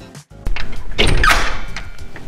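Heavy front door of a new build house near Detroit, Michigan, swinging open: a short click, then a deep thunk and a broad rushing sweep as the door moves, loud and close, with no talk.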